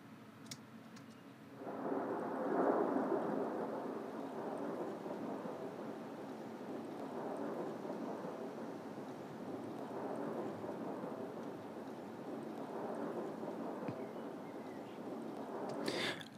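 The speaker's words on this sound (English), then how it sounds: "I do like the ambience of the rain that we're getting, by the way. It's a cool effect." Rain ambience effect layered into a neurofunk track: a steady, hissing wash of rainfall with a thunder-like rumble swelling near the start, holding at an even level throughout with a faint click at the end.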